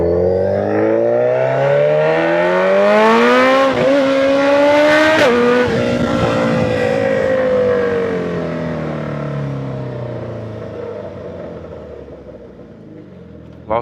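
A motorcycle accelerates hard toward traffic lights, its loud engine note climbing steeply through quick gear shifts, then easing into a long fading drone as it pulls away, with rushing wind throughout.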